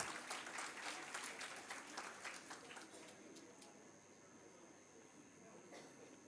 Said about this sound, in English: Please give a round of applause for the speakers of our plenary.